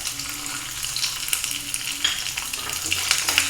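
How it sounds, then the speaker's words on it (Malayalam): Chopped coconut frying in hot ghee for a cherupayar (green gram) payasam, a steady close sizzle and crackle with light stirring scrapes running throughout, no voices. "ഇതിലേക്ക് നമുക്ക് കുറച്ച് തേങ്ങ ഇതുപോലെ കൊത്തി അരിഞ്ഞത് ഇട്ട് കൊടുക്കാം."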